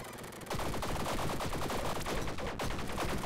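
Rapid, continuous machine-gun fire from the roguelike Tiny Rogues starts abruptly after half a second and rattles on loud and steady, with a brief dip near the end.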